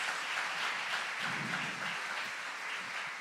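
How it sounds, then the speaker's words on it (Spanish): A church congregation applauds in a continuous, even wash of clapping, fairly faint and distant, lasting about three seconds with no talking. "¿Cuántos le dan un aplauso al Señor por esto?"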